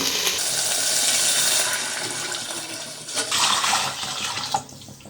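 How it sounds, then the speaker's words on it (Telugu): A steady, loud rush of water pouring into a pot of chicken biryani base with coriander and mint, continuing for several seconds and then tapering off. "ఇప్పుడు వాటర్ పోసేసుకుందామండి."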